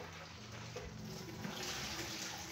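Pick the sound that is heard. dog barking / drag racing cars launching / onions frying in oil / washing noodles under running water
washing noodles under running water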